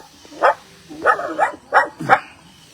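In a competition mimicry act, a performer's voice imitates a dog barking, giving five sharp, close barks in an uneven rhythm over under three seconds.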